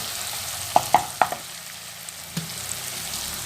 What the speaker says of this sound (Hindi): अच्छी तरह से हम मसाले की भुनाई करेंगे